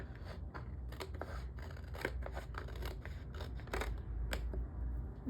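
Scissors snipping planner paper, a quick series of crisp cuts, close and fairly quiet, with no talking.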